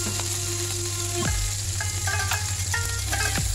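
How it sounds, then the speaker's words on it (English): Garlic and onion sautéing in reused oil in a pan for chicken stew, a continuous close sizzle with clinks and scraping from a utensil against the pan. "in the same pan also, the same oil, we are going to saute our garlic and our onion"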